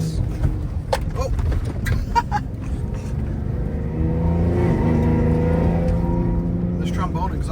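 An off-road truck with a trombone exhaust revs loudly and close by, with a swelling engine roar building through the middle of the clip, while someone talks over it.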